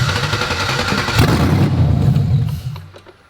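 An LS-swapped Chevy S10 engine revs loud and rough up close, then sputters and dies, its roar fading out to near silence over a few seconds.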